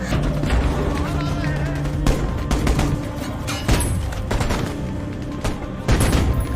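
Repeated sharp gunshot bursts crackle through a dense, noisy battle soundscape, with loud impacts and constant rumbling in the background.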